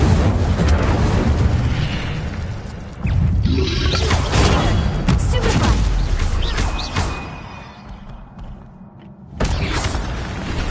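Incendio fire spell bursts in the video game Hogwarts Legacy: loud roaring whooshes and booming blasts in surges, easing off briefly before a final sudden burst near the end.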